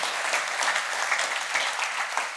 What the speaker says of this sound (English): Applause for the hugging.